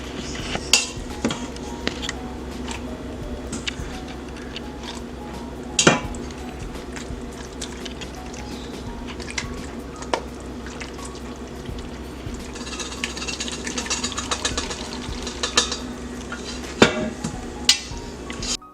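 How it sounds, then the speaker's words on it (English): Cooked pasta is stirred back into melted cheese sauce in a pot for mac and cheese. A spoon knocks and scrapes against the metal pot with wet, sticky squelching, and there are occasional louder clanks over continuous kitchen noise. "we're gonna start adding back the pasta"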